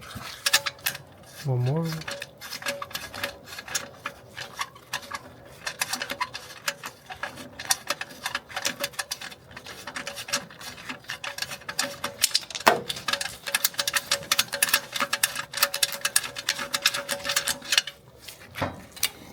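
A hand ratchet loosens downpipe bolts on a Mercedes C63S in rapid bursts of close, metallic clicking that run almost continuously, with brief pauses and a short spoken remark early on.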